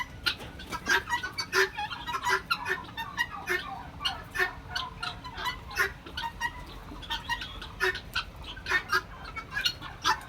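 Chicks and hens of mixed colours at a poultry farm in Sirajganj cluck and peep in a dense, continuous chorus of overlapping short calls, moderately close, with no talking.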